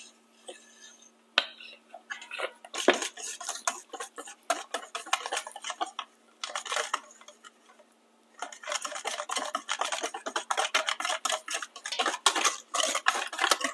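A whisk clinks and scrapes steadily against a bowl while mixing flour into cake batter for a French apple cake, in quick rhythmic bursts with brief pauses between.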